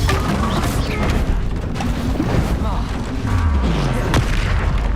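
Bombs and spell blasts bursting in a Hogwarts Legacy duel, a dense run of deep booms and crashes under continuous loud combat noise, with a voice speaking over it.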